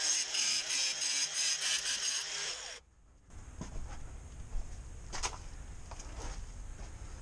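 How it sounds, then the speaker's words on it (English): An angle grinder grinding protruding nails off during a budget DIY retaining wall build, a loud continuous high whine for about three seconds, then a short pause and rougher, scraping grinding with sharp bursts. "So I'll just grind these off."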